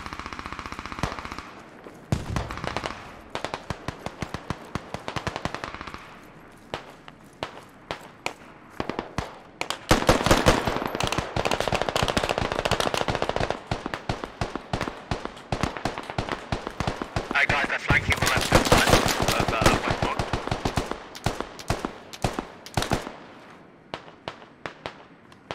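Gunfire in the military shooter Squad: long loud bursts of rapid automatic fire alternate with scattered single shots. The shooting goes on almost without a break, near and far.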